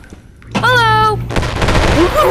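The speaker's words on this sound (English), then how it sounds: "Oh, that's just a flashbang, dude." A flashbang grenade goes off in the video game Animal Company with a sharp bang and a loud, sustained ringing whine, followed by a noisy burst of crackling, under a voice.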